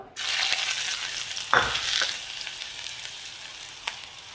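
Crushed ginger, garlic and shallots dropped into hot coconut oil for a fish curry: a sudden loud sizzle that keeps crackling steadily and slowly fades, with occasional stirring clicks and no talking.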